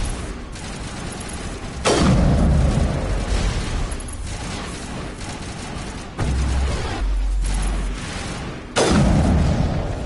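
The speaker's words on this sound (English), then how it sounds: "I just shot them with a shotgun" Shotgun blasts fired at bugs in the video game Mass Effect: three heavy booming shots land several seconds apart over a dense, steady bed of game combat noise, with no talking.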